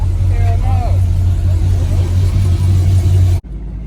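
A car with a modified exhaust idles at a deep, loud, steady rumble close by, with people talking over it; the sound cuts off abruptly near the end.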